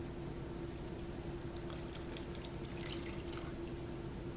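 Water and liquid ingredients pour steadily into a homemade chocolate cake mixture in a kitchen, a continuous close wet rush that stays even throughout, with no voices.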